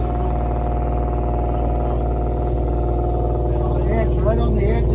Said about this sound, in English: I'll start his truck anyway.